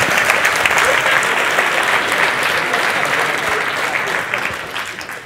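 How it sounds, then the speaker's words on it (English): A conference keynote crowd applauding, dense sustained clapping from a large audience that holds steady for several seconds and tapers slightly at the end. "Round of applause."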